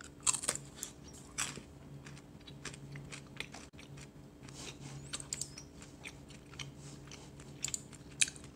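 Someone bites and chews a crispy carob bar with a puffed, popped-grain texture, giving close, crunchy bites and a steady run of crackly mastication with no talking.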